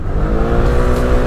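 FKM Venture ADV 180 motorcycle engine revving at high RPM, a dense, loud, steady buzzing roar held close for a brief moment.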